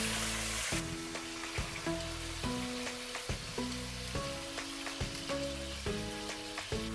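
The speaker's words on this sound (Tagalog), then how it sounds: "Next, i-fry natin itong pork chop." Pork chop frying in a pan of hot oil, a steady crackling sizzle running throughout, punctuated by repeated musical tones and light clinks over the top, with no talking.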